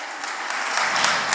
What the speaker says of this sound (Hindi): क्या ताली बजाएं